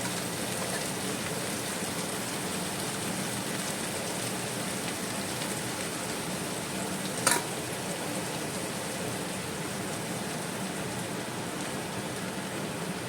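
Japanese rice goes into a mixture frying in a pan, giving a steady, dense sizzle throughout with one brief clatter partway through.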